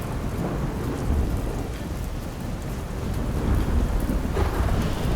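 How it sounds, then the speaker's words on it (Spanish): A heavy thunderstorm with steady, dense rain pouring down and low rumbling thunder rolling throughout, loud and continuous, with no voices. "El agua seguía cayendo, y la tormenta no daba tregua."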